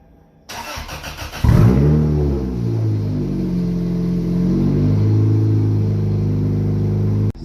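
A Toyota MR2 Spyder with a stage two turbo upgrade cranks briefly and fires up, then settles into a loud, steady idle with a couple of light revs, close and alone.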